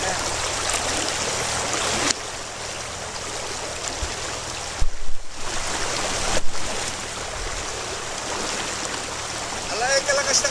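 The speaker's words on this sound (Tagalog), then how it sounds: "Alay, kalakas ng agos." A strong river current in Mindoro rushes as a loud, dense, continuous wash, with brief thumps and a short dip partway through; people talk over the flowing water.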